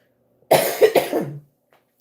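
A single hoarse cough burst, close and fairly loud, trailing off after about a second, followed by quiet.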